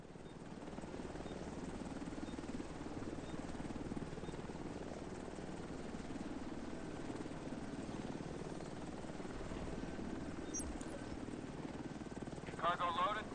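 A helicopter in the video game The Division 2 flies nearby with a continuous low rotor drone and engine hum that holds steady, while a voice talks over it and a few brief chirps sound near the end.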